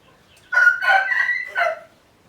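Chickens, including Madura-bred fowl, crow and cluck in a short, close burst of two or three calls, then fall quiet.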